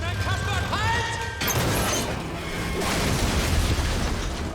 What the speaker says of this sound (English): That was a pretty big pop right there.